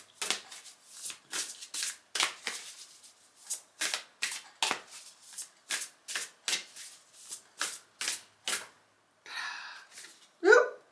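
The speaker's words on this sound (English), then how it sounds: "I will take a couple of cards from this deck." A deck of tarot cards being shuffled by hand at a desk: a long series of crisp, close riffling bursts in an uneven rhythm, followed by softer rustling as cards are drawn.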